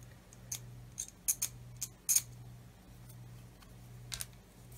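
Cutting a plastic part with a hobby tool while building a Tamiya 1/16 RC Sherman tank kit: a handful of sharp, quiet snips and clicks spaced irregularly over a faint low hum, close by.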